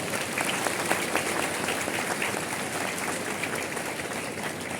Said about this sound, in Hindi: देश प्रेम से भरे इस गीत के लिए इन सभी बच्चों के लिए जोरदार तालियां।